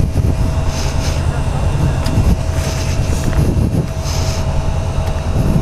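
A Suzuki SV650 motorcycle engine idles and runs in first gear, a steady low rumble with broadband road-like noise throughout, loud and close, with a few faint voices under it.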